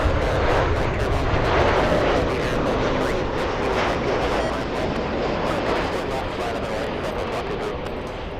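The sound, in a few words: Virgin Atlantic heavy jet taking off from LAX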